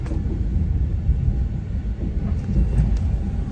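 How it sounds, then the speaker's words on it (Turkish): A steady low rumble of a train in motion, with continuous rolling noise and a few faint clicks, no voices. "Trene bindik. Şu anda yolculuğumuza devam ediyoruz."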